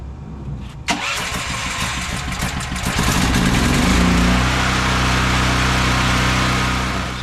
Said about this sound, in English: So I've got the generator going right now.